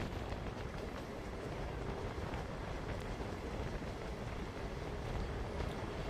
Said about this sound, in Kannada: ಎಂಟ್ರಿ ಆಗಿದೆ ನಮ್ಮ ಟ್ರೈನ್ ಈಗ ತೋಳ ಹುಣ್ಸೆ ಜಂಕ್ಷನ್ಗೆ.